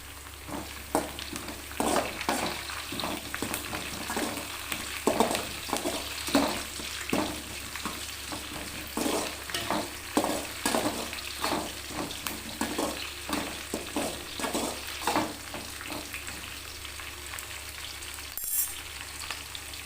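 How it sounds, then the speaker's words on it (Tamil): Green chilies and curry leaves sizzle and sauté with onions in a pan for a kadamba poriyal, a continuous frying hiss broken by regular scraping stirs of a spatula, close and moderately loud, no speech. "இப்போ வந்து பச்சை மிளகாயை கருவேப்பிலையும் போட்டுக்கலாம்"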